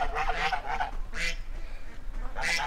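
Ducks on a lawn give several loud, close, raspy quacks in short bursts, with brief pauses between calls.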